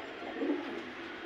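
A caged pigeon gives a single soft, low coo from close by, faint against a quiet background with no talking.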